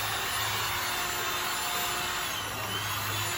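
Hair dryer blowing continuously, a loud, steady broadband whoosh with a constant motor hum, close up and uninterrupted.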